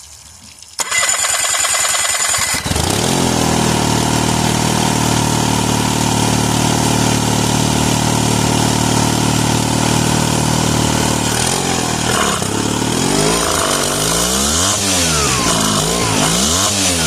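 A 2015 Yamaha 20HP outboard motor, running poorly with a misadjusted idle and running hot, cranks, catches and settles into a loud, steady idle, then revs up and down in uneven swells near the end.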